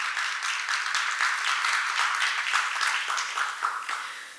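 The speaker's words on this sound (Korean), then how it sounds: "모든 분들께 큰 박수 부탁드립니다" An audience at an academic martial arts seminar applauds steadily, a dense patter of many hands clapping at moderate volume, sustained throughout without voices.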